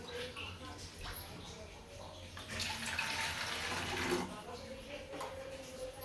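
Running water from a kitchen tap pours steadily into two water bottles, swelling louder midway as a bottle fills, with light kitchen clatter around it.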